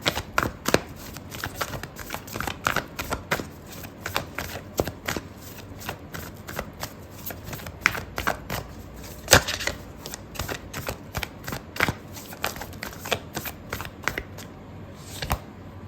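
Oracle cards for a tarot reading are shuffled by hand, giving a long run of quick, close riffling snaps and soft card flicks at an uneven pace, with no talking.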